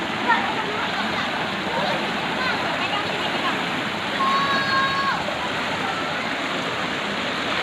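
Clear water rushing continuously at a natural clothes-washing spot by the Mata Ie pool in Aceh Besar, a close, steady broadband splashing flow with a brief tonal chirp midway.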